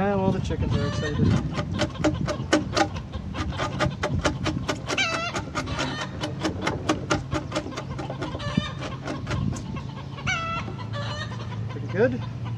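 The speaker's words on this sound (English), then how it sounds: "Chickens are excited." Chickens clucking excitedly near a timber-frame work site, a dense run of rapid, loud clucks and squawks with occasional crowing-like calls, close by over a steady background hum.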